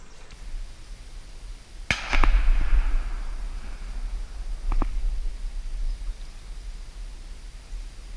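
Gunshots ring out during an opening-day wood duck hunt: a sharp shotgun blast with a brief echoing tail, then a second fainter report a few seconds later, both at middle distance over low outdoor ambience.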